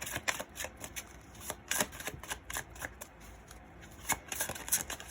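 Tarot cards are shuffled and drawn in a run of quick, crisp riffles and slaps, close and fairly quiet, with short pauses between bursts.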